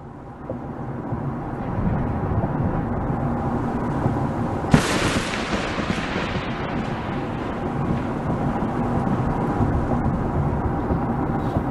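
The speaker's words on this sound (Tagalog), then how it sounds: "Hindi ko po alam eh, pero mukhang malakas nga po itong ulan na paparating." Thunderstorm with heavy rain approaching a car on the road, a steady dense roar of rain with one sharp thunderclap crack midway that decays into rumbling wash, no talk.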